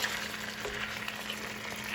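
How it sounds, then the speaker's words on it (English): Soft, steady sizzling of chicken adobo sauteing in a pan, a faint continuous crackle with no talking. "I'm gonna saute this."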